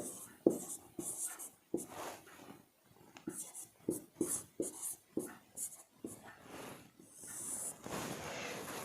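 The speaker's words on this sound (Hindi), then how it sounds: "चैम्बरलिन, हिंदी में भी लिख देते हैं इसको ऐसे।" Chalk or marker writing by hand on a board during a geography lesson, a series of short scratchy strokes in irregular bursts, fairly close, with no speech over it.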